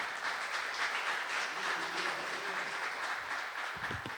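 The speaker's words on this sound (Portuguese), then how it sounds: "Vamos aplaudir ao Senhor." A church congregation applauds after a sermon, a soft, distant wash of clapping with a faint low hum and a brief thump near the end.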